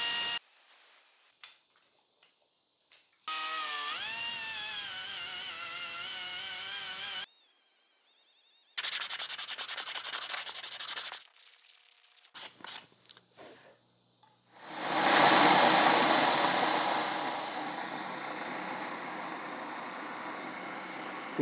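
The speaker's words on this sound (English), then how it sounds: "and the angle grinder" An angle grinder fitted with a roll-lock disc refinishes a steel dirt bike axle bolt, whining in several separate runs that start and stop, with quiet gaps between them and a louder, rougher grinding burst toward the end.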